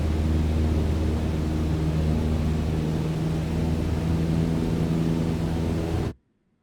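Cessna 152 engine at full climb power in a Flight Simulator game, a steady droning hum with harmonic tones, loud and unbroken for about six seconds before cutting off abruptly.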